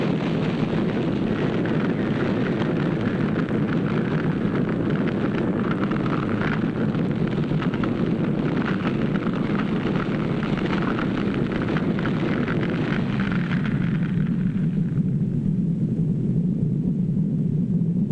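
A steady, sustained rumbling roar from an explosion in vintage Cold War film footage fills the whole stretch at a constant loud level, then its upper hiss thins out toward the end.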